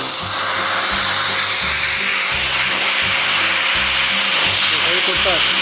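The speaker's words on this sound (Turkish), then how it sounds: "Şimdi Şöyle süpürgemizi çalıştıralım." An Arçelik 4540 bagged electric vacuum cleaner runs loud and steady throughout, a continuous motor whine with pulsing low thumps and voices talking beneath it.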